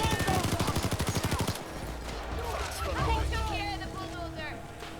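In the Payday 2 video game, a Queen's Wrath L85 assault rifle fires a rapid, steady automatic burst of loud shots for about a second and a half, then stops, leaving a bed of game noise and scattered sounds.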